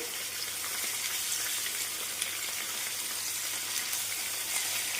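Prawns fry and get stirred in a pan for a prawn curry, giving a steady, continuous sizzle with faint scraping, heard alone at moderate level.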